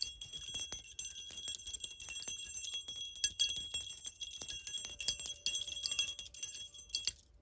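Bells ring in a bright, continuous high shimmer of overlapping tinkling strikes, light and steady throughout with no voices.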